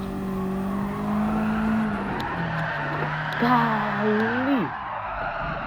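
Mazda Miata drifting in Gran Turismo 7, tires squealing in long wavering tones that rise and bend near the end, over a steady engine hum, with a voice exclaiming briefly.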